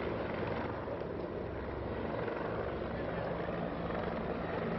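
Several police helicopters circling over Milan before a high-risk AC Milan versus Real Madrid football match in 1989 make a steady, continuous rotor drone that stays loud and unbroken throughout, with no voices over it.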